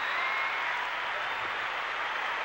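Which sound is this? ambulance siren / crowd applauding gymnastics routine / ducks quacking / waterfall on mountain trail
crowd applauding gymnastics routine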